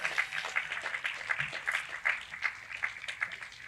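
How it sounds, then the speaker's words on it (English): The audience at a MoDOT I-270 ribbon cutting applauding the Hazelwood East Band, moderately close with sparse, distinct claps in an uneven rhythm rather than a dense roar. "So let's give them a round of applause."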